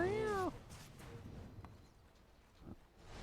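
The golden kitty courier in Dota 2 lets out one clear, rising-and-falling meow at the start, followed by faint game clatter and soft footsteps in the background.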